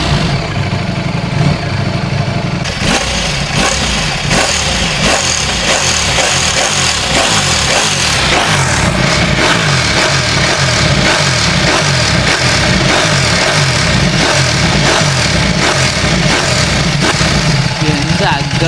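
A Ducati Panigale V4 superbike with a high-revving engine and a 15,000 RPM limit idles in neutral with a loud, steady rumble, broken by repeated sharp revs close by, while a voice talks over it.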